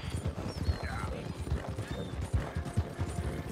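A horse gallops in a video game time trial, its hooves pounding in a fast, uneven rolling rhythm, close and fairly loud, with a faint whinny-like sound in the background.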